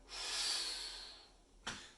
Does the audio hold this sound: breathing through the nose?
yes